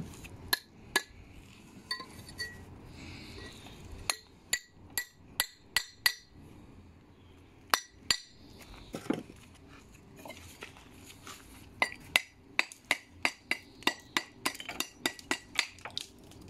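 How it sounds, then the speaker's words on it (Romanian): A normal masonry hammer strikes repeatedly during house extension work, producing sharp, ringing metallic taps, some isolated and others in quick bursts, close up with little else around them. "Acesta este un ciocan normal de zidărie"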